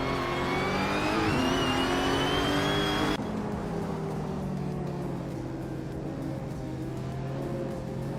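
Engine of a 2019 Dallara Stradale race car in a racing video game, screaming high through a long rising rev before an abrupt shift drops it to a lower, steady drone, loud and alone.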